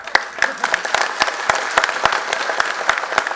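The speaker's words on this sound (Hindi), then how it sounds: "अरे उठो जरा ताली बजाओ इसके लिए" Applause from a political rally crowd, a dense continuous patter of many hands with sharp individual claps standing out, loud and close, lasting throughout without a break.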